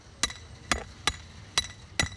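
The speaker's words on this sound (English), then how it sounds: "There's over 100 to knock into the ground." Five sharp hammer blows drive circus tent pegs into the ground, spaced about half a second apart, each a crisp close strike with a short ringing tail, heard alone without talk.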